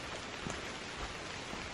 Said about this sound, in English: walking underneath the trees is not that bad with the rain